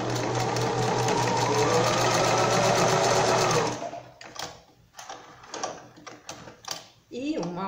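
A sewing machine runs in a fast, continuous whirring burst while stitching a seam on a fabric bandana collar, then stops and gives way to quieter handling noises and a brief voice.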